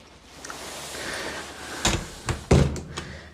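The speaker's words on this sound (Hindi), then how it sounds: "मैं ये दरवाज़ा बंद करके" An apartment door in a German flat swings shut, giving a few sharp thuds and a final latching slam close by, with quiet room tone and no talking.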